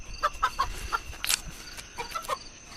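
Chickens on a farm at night clucking in short, irregular bursts, with a sharp squawk from a hen in the middle, nearby and moderately loud.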